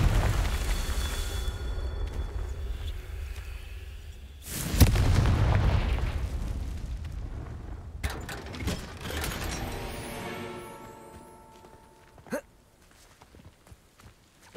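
Fiery Confringo spell blast in Hogwarts Legacy, a sudden loud boom partway through amid game footsteps and mechanical clatter, followed by sharper cracks and a fading rumble.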